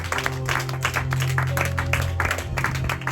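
A church congregation claps in praise during worship, a brief, full burst of applause with uneven bursts of hands over a low sustained musical drone.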